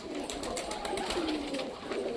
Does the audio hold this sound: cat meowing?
no